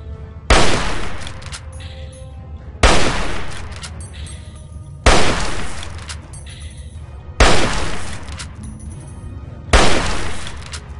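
Five loud, widely spaced gunshots from the video game Fallout 3, each a sharp blast followed by a long ringing decay. They come about every two seconds with no talk between them.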